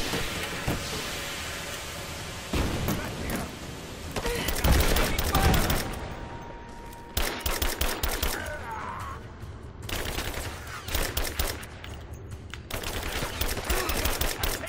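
Sustained gunfight in Rise of the Tomb Raider, with dense bursts of automatic fire and single gunshots ringing out across the whole stretch, loud and close with brief lulls between volleys.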